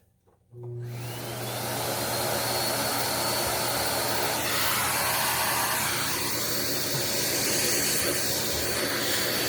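A SEBO vacuum cleaner runs loud and close, its steady motor whine and airy suction hiss starting abruptly and holding as it cleans a cold air return grate upstairs in a two-story house.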